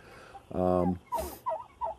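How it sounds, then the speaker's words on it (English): Midget white turkeys on a farm fight, and one loud gobble rolls out close by. Short clucks and scuffling follow it, with faint background noise underneath. "They're going to fight now, and then we're going to get turkey poop all over the place."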